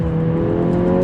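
A Mercedes A45 AMG engine drones loud and close in a steady, even tone, with no voices.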